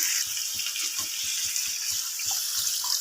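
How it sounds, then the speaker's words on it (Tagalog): Water poured into a pot of chicken sautéed with onion and garlic for adobo, a steady hissing splash running continuously and fairly loud, with no talking. "Lagyan siya ng tubig guys para palambutin natin."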